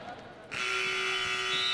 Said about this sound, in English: And the buzzer will finally signal the end of this contest for Kevin Duffy and his squad.